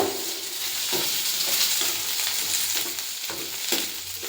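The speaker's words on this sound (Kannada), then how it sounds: "ಹಚ್ಚಿಟ್ಟಿರುವಂಥ ಈರುಳ್ಳಿ ಮೆಣಸಿನ್ಕಾಯಿ ಹಾಕೋಬೇಕು ಇದನ್ನ ಚೆನ್ನಾಗಿ ಫ್ರೈ ಮಾಡ್ಕೋಬೇಕು" Chopped onions and green chillies fry in a pan with a steady, close sizzle, broken by several scraping stirs of a spoon against the pan.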